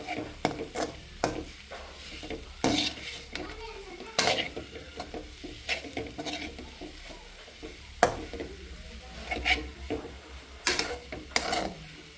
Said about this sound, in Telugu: ఇప్పుడు కొంచెం కారం వేస్తున్నా కారం కూడా క్యారెట్లో బాగా కలిసేలాగా కలుపుతున్నాం